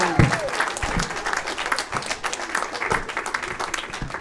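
A comedy club audience applauds comedian Matty Ryan as he leaves the stage at a SXSW showcase, a lively, dense clatter of clapping with scattered whoops, while a host speaks over it near the microphone.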